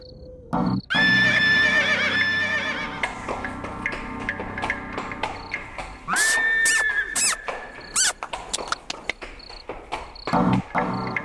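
A horse from a Hindi comedy film scene neighs loudly in harmonic whinnies, with a long call near the start and another around the middle, set among music and chirping insect-like effects, no speech.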